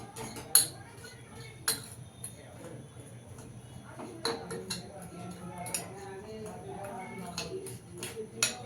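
Spices being mixed for chanachur in a bowl, with scattered light clinks and taps of a spoon against the dish, fairly close and faint, under occasional quiet speech.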